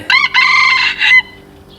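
A rooster crows loudly and close by, one full drawn-out call with a short break early on, then quiet.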